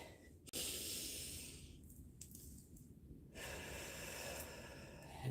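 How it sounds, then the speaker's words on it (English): Slow deep breaths during a calm grounding session: soft, airy inhales and long hissing exhales, fairly close and quiet, with a couple of sharper sniffing intakes and no talking. "So let's take a few deep breaths."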